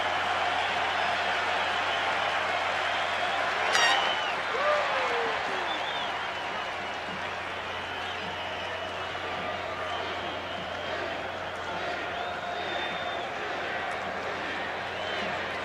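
Crowd cheering and applauding at a 1991 World Series baseball game in Atlanta, Twins at Braves, a broad, sustained roar of the stadium with a brief swell early on and a commentator talking over it.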